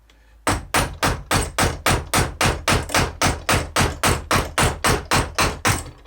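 Rapid, steady hammer blows, about twenty in a row, strike the end grain of a wood piece clamped in a Stanley hobby vise. Each hit lands as a loud, close, solid knock with a short ring, and no one speaks.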